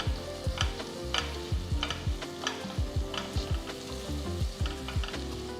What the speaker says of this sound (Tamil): ஃபஸ்ட் நம்ம வெங்காயத்தை வதக்கணும். ஸோ வெங்காயம் ரொம்ப ப்ரௌன் ஆக தேவையில்லை.